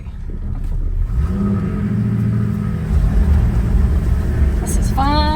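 A Toyota vehicle's engine, gear-restricted to about 30 km/h, rumbles steadily and close while reversing at low speed, with a brief rising whine near the end.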